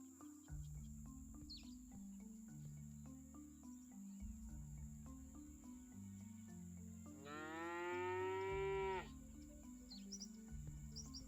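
A cartoon cow in the Scott Whiskers video game gives one drawn-out moo, loud and close over a bouncy game soundtrack, with soft chirping effects around it.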